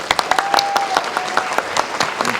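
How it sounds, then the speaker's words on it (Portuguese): A short round of applause from an audience at a trade union event, with individual claps standing out clearly and a faint tone running underneath. "Uma salva de palmas para eles, por favor."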